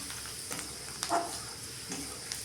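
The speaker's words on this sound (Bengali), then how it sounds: "তেলে দিয়ে দেবো রসুন কুচি। রসুনটাকে হালকা ভেজে নিয়ে" Chopped garlic fries in oil with a quiet, even sizzle and a few light stirring clicks and taps, with no voices.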